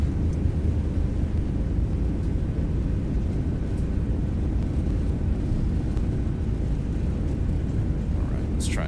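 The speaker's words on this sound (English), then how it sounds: "I'm going to go ahead and set the reversers to idle" A ToLiss A321 rolls out after landing in X-Plane 11 with thrust reversers deployed, a steady, loud, broad engine rumble that holds evenly throughout without a break.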